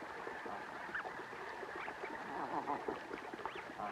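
Snow geese calling in the Arctic, with repeated honking and quacking cries over a continuous murmur of other birds, moderately distant and fairly faint.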